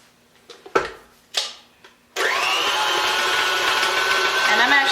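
A stand mixer creams butter and sugar. A few clicks and knocks come first, then the motor starts up into a steady, loud whirring hum that holds to the end.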